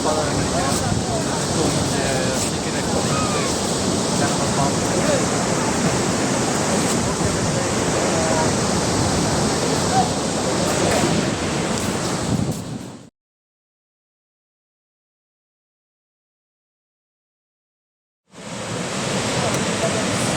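Gaganachukki waterfall in Karnataka roars as a steady, loud, dense rush of falling water that cuts out to silence for several seconds near the end, then resumes.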